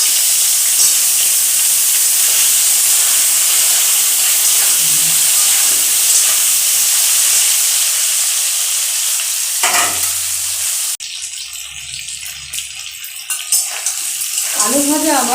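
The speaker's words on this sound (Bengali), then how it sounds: "সেদ্ধ করা আলুগুলো দিয়ে ভেজে নেব।" Boiled potatoes and tomato frying in a pan give a loud, steady sizzle and hiss, broken by brief stirring scrapes and a pause near the end before the sizzling resumes.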